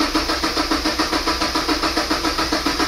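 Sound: Mazda MX5 NC engine cranking and starting

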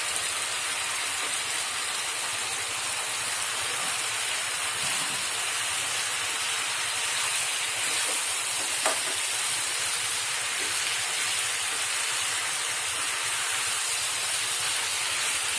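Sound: soaked onions added to hot oil, frying

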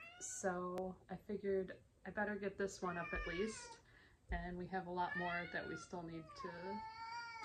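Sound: cat meowing

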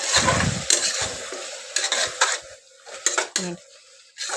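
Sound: stirring masala paste in a pan

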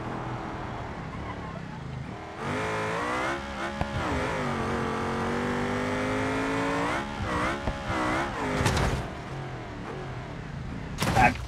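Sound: race car crash in video game BeamNG.drive

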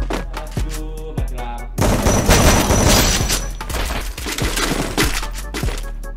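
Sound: shotgun gunfire in a video game

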